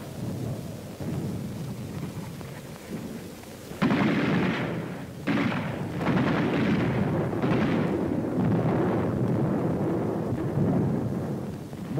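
Wartime mortar and artillery fire near San Pietro and Mount Lungo rumbles as heavy, thunder-like booms: a low roll, then a louder series of blasts with reverberating tails.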